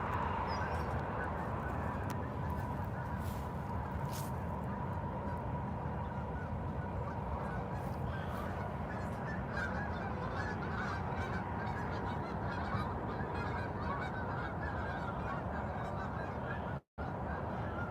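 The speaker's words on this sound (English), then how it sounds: "these geese are all down here." Geese crowd the edge of ice-cold water before a snowstorm, honking steadily in a dense, overlapping chorus at moderate distance under outdoor noise.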